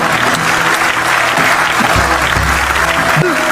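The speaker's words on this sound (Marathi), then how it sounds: "ज्याला ज्याला बायको आहे त्यांनी टाळ्या वाजवा" A live audience claps continuously, a dense, loud and even applause that lasts the whole stretch with no break.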